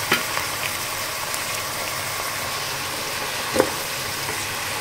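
Peppers sizzle steadily in a pan with soy sauce nearby, a constant close frying hiss broken by a couple of brief clicks or stirs.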